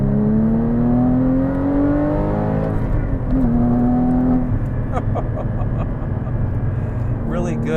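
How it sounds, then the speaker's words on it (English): A Porsche sports car engine, driven hard through a corner, climbs in rising tones and then blips through quick rev-matched downshifts, loud and close inside the cabin. "Sound is awesome. Very, very good sound. Oh, those rev matches."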